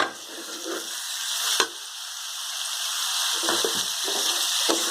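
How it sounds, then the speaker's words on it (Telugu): Two tomatoes frying in a pan for a village-style bitter gourd fry: a steady, close hiss of sizzling oil with a few sharp stirring knocks, continuous and fairly loud, no voices. "రెండు టమాటాలు ఇవి వేసి బాగా వేయించుకోవాలండి"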